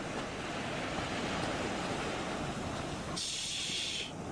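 Ocean surf roars as a broad, steady wash of crashing water with heavy rushing noise throughout, and a brighter hiss cutting in near the end, no voices present.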